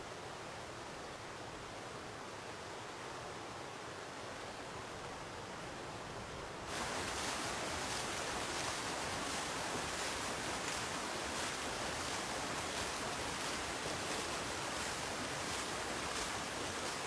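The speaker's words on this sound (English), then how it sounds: "The flow of the river turns the water wheel and pumps the water." A river flows past an old water wheel in Japan, a steady rushing wash that grows noticeably louder partway through, with no speech.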